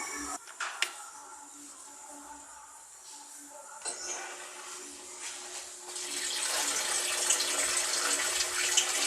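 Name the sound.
washing machine filling with water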